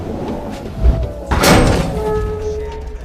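A shoe thrown down by a woman trapped high on a tower lands with one solid thud, fairly loud and close, followed by faint background sounds.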